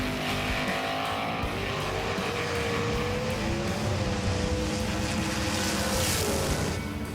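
A small 79-gram model race car runs down a short time-trial track, giving a continuous rolling, whirring rush at steady volume for several seconds, with no voices.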